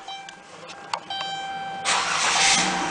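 A Dodge Grand Caravan starts by remote start: soft electronic beeps and clicks come first, then the engine cranks and catches, settling into a steady idle that rises in loudness toward the end.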